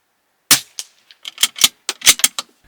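Bergara B14 rifle firing Aguila 38-grain subsonic hollow point .22LR rounds, a series of sharp, close cracks in quick irregular succession, about a dozen snaps with short decays.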